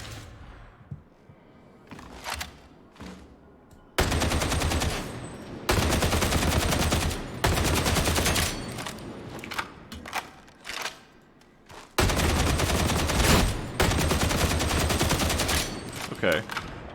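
Repeated single-shot rifle fire in Warhammer 40,000 Darktide, a video game, with loud bursts of shots arriving in dense clusters and a few quieter gaps between them.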